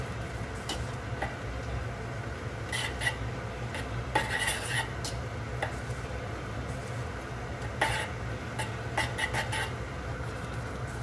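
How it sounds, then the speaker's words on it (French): Spaghetti carbonara being gently stirred with sauce and a splash of pasta cooking water in a pan, giving soft intermittent utensil clinks and scrapes over a steady low background hum. "on incorpore tout doucement la composition aux pâtes"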